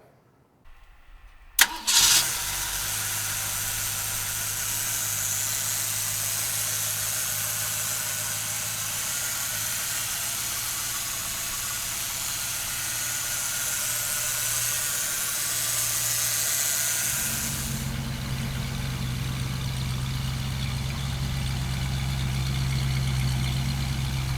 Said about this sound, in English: let's fire this baby up